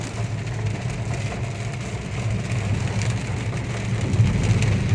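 Steady rain falls outdoors during a windstorm, a dense constant patter with low rumbling underneath that holds for the whole stretch, with no voices.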